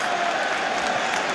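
A Test match crowd at an England v India game claps and cheers in a dense, continuous wash of applause, close and fairly loud, with no break across the short burst.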